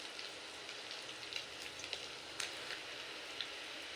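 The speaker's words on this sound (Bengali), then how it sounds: "আমি সয়াবিনগুলো একে একে ভেজে নেব" Soybean chunks frying in hot oil, a faint, even crackling sizzle with scattered soft pops, quiet and continuous without talk.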